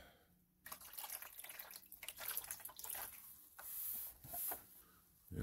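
Tap water rinsing an acid-etched, unclassified iron meteorite, a steady splashing rush that begins abruptly and varies in strength, with drips and spatters, close by and alone.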